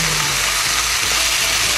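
Mixed vegetables sautéing in a pan, with a steady loud sizzle and soft scraping from stirring throughout a short stretch.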